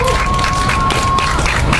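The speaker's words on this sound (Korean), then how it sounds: "큰 박수 부탁드립니다" Audience at an outdoor cultural rally clapping for a performer being introduced, a dense steady wash of applause and crowd noise throughout, loud and close.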